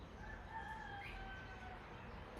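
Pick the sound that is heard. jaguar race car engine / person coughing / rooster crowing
rooster crowing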